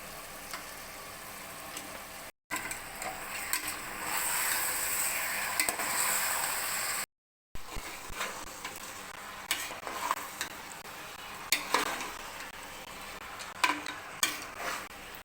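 Chicken goes into a hot pan for white kurma and is stirred, sizzling and frying steadily up close with scraping stirs, a couple of brief dropouts, and sharp clinks of the utensil against the pan.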